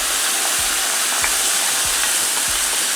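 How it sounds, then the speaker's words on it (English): Tomatoes hit a hot pan and sizzle with a steady, bright frying hiss. Faint stirring scrapes and low knocks come through about every half second. No one speaks. "I'm going to go ahead and add the tomatoes."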